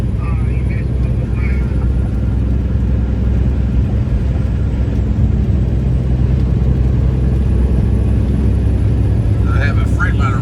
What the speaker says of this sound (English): I have a Freightliner right next to me